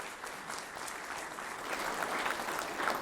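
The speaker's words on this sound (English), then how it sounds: "let's give them a round of applause" Steady applause from an audience at a county fire rescue quarterly awards ceremony, dense and fairly even for the full stretch, swelling slightly toward the end.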